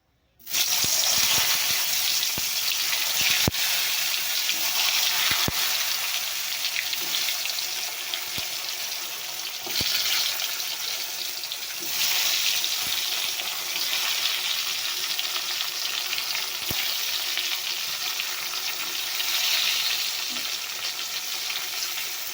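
Pointed gourd (potol) slices frying in oil in a pan for a Bengali home meal, a loud, steady broadband sizzle that runs continuously with a few sharp pops and spits scattered throughout, no voices.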